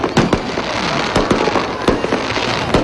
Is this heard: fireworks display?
yes